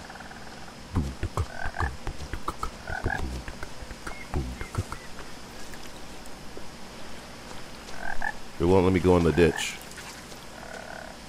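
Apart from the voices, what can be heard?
frogs croaking in a jungle, from the video game What Remains of Edith Finch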